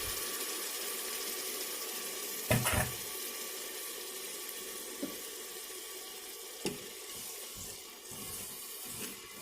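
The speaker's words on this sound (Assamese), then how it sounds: "পানী দি দিছোঁ।" Water runs and splashes steadily into a cooking pot while egg biryani is being prepared, a soft continuous pour with a few brief knocks, fairly quiet and with no talking.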